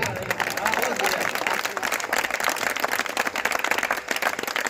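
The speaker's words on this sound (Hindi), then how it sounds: "आपकी तालियां उठें" Audience at a Hindi poetry recitation bursts into loud, dense applause, many hands clapping steadily and close throughout without a break.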